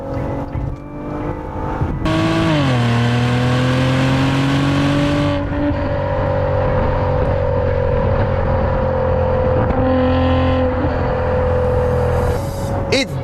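A 2020 Maserati Levante Q4 SUV engine revs up hard and accelerates through gear changes, rising and dropping in pitch with a loud, throaty roar.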